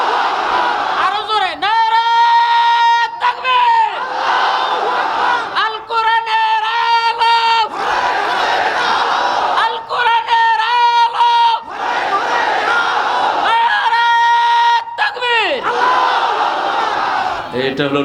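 A large crowd at a Bangla Islamic sermon gathering shouts the takbir, Allahu Akbar. Loud, massed chants come in several repeated waves, each answering the last, close and filling the space.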